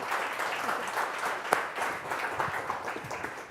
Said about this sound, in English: Give a round of applause to Katie.